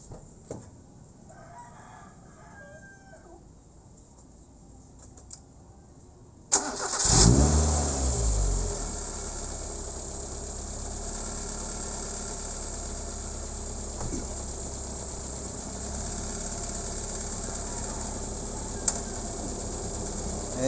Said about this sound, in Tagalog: kakastart ko lang yung sasakyan.